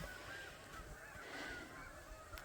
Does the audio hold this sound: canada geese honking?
yes